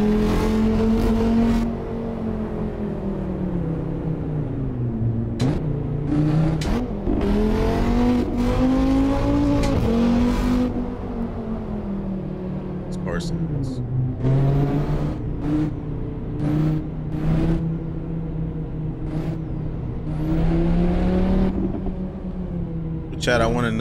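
A race car engine in the Assetto Corsa racing game revs continuously and loudly, rising and falling through gear shifts with sharp upshift cuts, over a steady rumble for the whole stretch.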